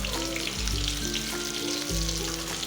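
Bitter gourd frying in a pan and being stirred with a spoon, a close, steady oily sizzle with soft scraping movements.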